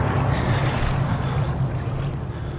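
Water in the horror video game Outlast, a steady rushing wash with a low rumbling drone, continuous and fairly loud, with no voices.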